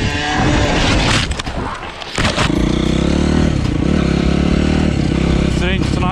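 A motorcycle rides over a stony road, its engine droning steadily and loud with rumbling, rattling surface noise, picked up by a GoPro Hero 7 camera mounted on the bike.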